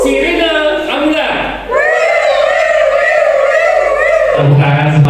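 A crowd of voices at a storytelling workshop imitates an ambulance siren, sustaining a loud, steady wailing tone for several seconds after a brief lead-in.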